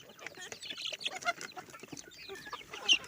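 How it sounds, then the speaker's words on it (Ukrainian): Dwarf Cochin chickens, including striped hens and a young cockerel, cluck and chatter in a run, several birds calling close by in quick overlapping bursts with one louder call near the end. "Карликовий кохінхін. Полосатий курочка. Пітушок молодий."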